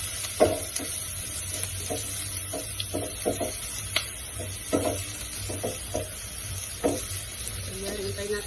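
Garlic sautéing in a pan after onions, a steady soft sizzle with scattered stirring scrapes and clicks throughout, close and moderately quiet, no talking.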